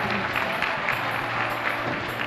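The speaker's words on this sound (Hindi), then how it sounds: "आप तालियां भी इतनी शानदार बजाते" Audience at a grand Panchkalyanak religious festival at Sonagir, Datia, Madhya Pradesh, clapping steadily in a loud sustained wave of applause with crowd murmur throughout.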